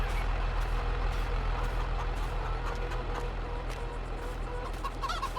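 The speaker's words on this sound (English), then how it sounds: "I see the rooster and 60 chickens." Chickens and a rooster in a pen, part of a flock of about sixty with one rooster. Clucking and crowing sound faintly under a steady low engine rumble, with a few sharper calls near the end.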